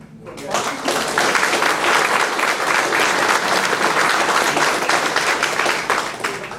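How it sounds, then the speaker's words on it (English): An audience at a community town hall in a YMCA breaks into sustained applause, a dense wash of many hands clapping loudly and evenly for several seconds. "He deserves a round of applause."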